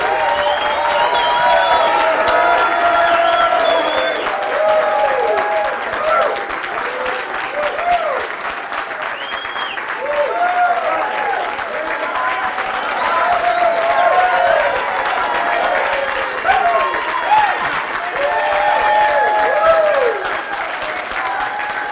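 An audience welcomes Dr. Neil Solomon with steady applause that fills the room for about twenty seconds, with no one speaking over it.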